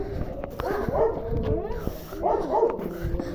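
Several dogs bark and yip outdoors at a middle distance, in short irregular bursts against low background noise.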